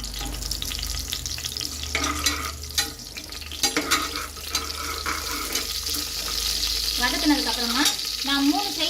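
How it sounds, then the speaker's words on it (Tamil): Whole spices (cinnamon, cloves and a spice packet) frying in hot oil for chicken biryani, giving a steady sizzle with scraping stir strokes and clinks, plus a brief watery rush near the end. "வாங்க ஆட் பண்ணி ஒரு 2 நிமிஷம் வதக்கிக்கோங்க."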